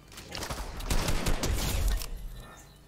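Goo gun firing in a video game, heard as a rapid sustained burst of sloppy, sputtering shots lasting about a second and a half before cutting off.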